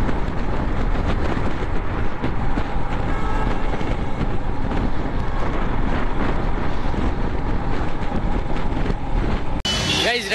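Motorcycle ride in extreme heat near Rishikesh, through a national park: a continuous engine drone mixed with heavy wind buffeting, steady from start to end, with a sharp knock near the close.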